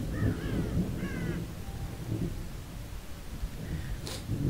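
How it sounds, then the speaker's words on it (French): Crows caw in the horror video game The Evil Within while feeding on a corpse, with several short harsh calls over a dense low rumbling ambience and a sharp noisy burst near the end. "Des corbeaux qui bouffent un cadavre, ça va."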